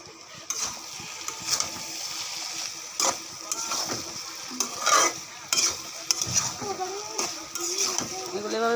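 Ground cinnamon, cardamom, garam masala and bay leaf fry in a pan, with a soft sizzle under repeated scraping and clinking stir strokes that come in irregular bursts up close, and no speech.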